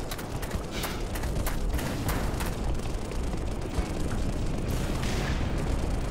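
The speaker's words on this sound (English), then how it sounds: "We need to go to the gunfire." Rapid gunfire and booming explosions from the shooter game Black Mesa, a dense, continuous barrage of sharp cracks over a rumbling low roar, loud and without talk.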